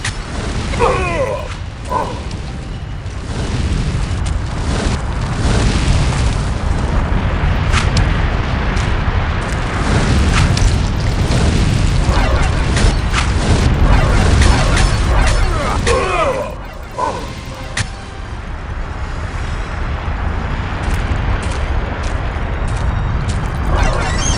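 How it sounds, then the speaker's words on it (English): Deep volcanic rumbling and booming in the game Lands of Lore III, a loud, continuous low roar with scattered crashes and impacts that dips briefly near the end before resuming. "This does move you around when the volcano shakes the screen."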